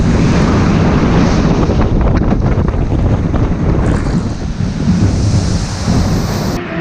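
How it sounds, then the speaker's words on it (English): Rushing water and spray roar from the Ripsaw Falls log flume drop at Universal's Islands of Adventure, a loud, continuous wash with wind buffeting the microphone and no voices. "water rides can go fast, especially when they have a drop like this one"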